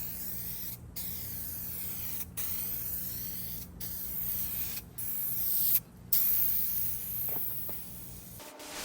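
Aerosol spray paint hisses onto a Trans Am dashboard in a series of short bursts separated by brief gaps, close and fairly loud, with no one talking.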